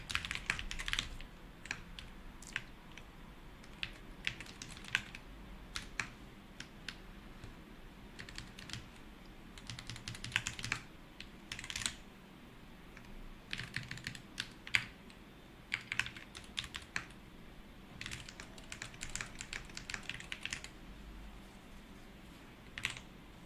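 Computer keyboard typing clatters in irregular bursts of quick keystrokes with brief pauses, quiet and close, alone without talk for the whole stretch.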